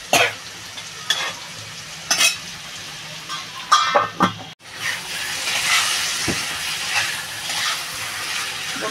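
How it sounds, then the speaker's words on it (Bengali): Fried kohlrabi goes into chicken cooking in a pan, with sharp scraping knocks of a spoon against the pan. These give way to a louder, steady sizzle and hiss in the second half, and no one speaks. "এই যে ভেজে রাখা ওলকপিটা এটা দিয়ে দেবো"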